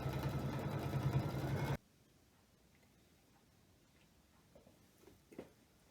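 Luminaire embroidery sewing machine stitching quilt sashing, a fast, steady, close mechanical ticking run that stops abruptly after under two seconds, followed by near silence with a few faint clicks.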